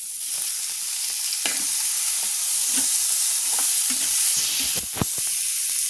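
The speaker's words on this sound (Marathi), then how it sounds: "टोमॅटो आपल्याला छान परतून घ्यायचा आहे तुपावर." Tomatoes sauté in ghee on high heat, giving a continuous hiss of frying broken by intermittent spoon scrapes and stirs, with a louder clatter of strokes near the end.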